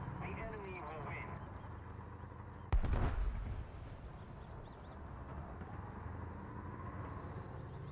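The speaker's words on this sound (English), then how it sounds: "Those cannons are no joke." Single loud cannon blast in a video game, a sharp booming hit followed by a brief rumbling decay, set among ongoing game sounds and background speech.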